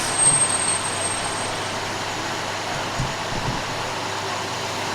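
A truck on a street in Washington, D.C., a steady low engine rumble with a brief hiss near the start, heard from nearby at moderate level with no speech over it.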